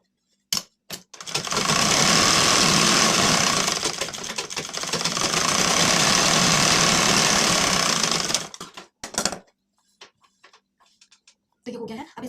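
A sewing machine stitches a lined blouse, running loud and continuous for about seven seconds with a fast mechanical rattle. Scattered clicks and handling taps of the machine and fabric come before and after the run.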